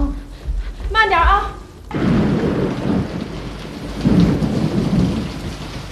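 A thunderstorm in a period family drama: a brief voice cries out before heavy, steady rain takes over, with low rolling thunder rumbling beneath the downpour throughout.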